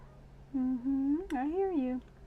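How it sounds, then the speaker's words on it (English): A cat meows twice at close range, two drawn-out tonal calls with a short break between them. The second call rises and then falls in pitch, heard in an otherwise quiet indoor room with a faint steady hum behind it. "She's a chatty kitty."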